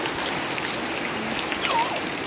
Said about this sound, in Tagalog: Grabe ng lakas ng ulan sa amin ngayon guys.